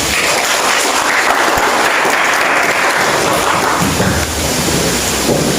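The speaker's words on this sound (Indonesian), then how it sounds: "Berikan tepuk tangan untuk tim afirmasi." Loud, dense applause from a school audience for the affirmative team at a high school Indonesian-language debate, a continuous roar of many hands clapping for several seconds with almost no talking.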